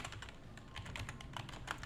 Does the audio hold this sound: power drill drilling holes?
no